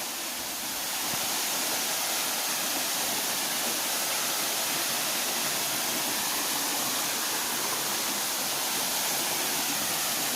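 Sampalok Falls in Pangil, Laguna, heard from the base where the water drops onto rocks: a loud, continuous broadband roar of falling water, steady and close throughout.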